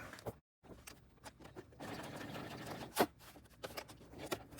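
A domestic sewing machine stitches a fabric appliqué onto a bag, running in short mechanical bursts of whirring and clicking with a brief pause near the start and a sharper clack partway through, close and fairly quiet.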